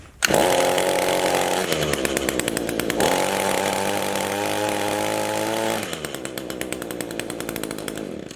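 An Echo HC 152 hedge trimmer runs with its blades loosened after a blade lock fix: a loud, buzzing two-stroke engine that revs up, eases off, then revs again, heard up close with no talking.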